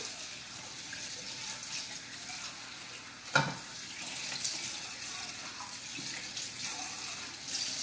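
Tap water runs steadily over two metal cans being rinsed in a kitchen sink, a broad continuous splashing hiss with one brief clunk partway through, no talking.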